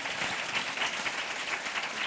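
Steady applause from a conference audience thanking the panelists at a closing plenary, dense and even with no pauses, without a single voice rising out of it.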